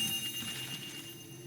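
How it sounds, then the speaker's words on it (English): Ringing chimes in the video game God of War Ragnarok, a soft repeated bell-like shimmer over a steady ambient hum, heard alone at moderate level. "Good to see the chimes working as intended."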